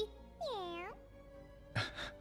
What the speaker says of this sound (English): Hungry meow.